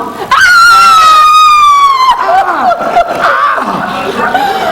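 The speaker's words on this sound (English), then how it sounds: "If you so much as touch him, he'll just scream out." A man lets out a loud, sustained scream with a falling pitch during a comedy sketch, followed by agitated, strained vocalizing; the outburst is close and dominates the scene.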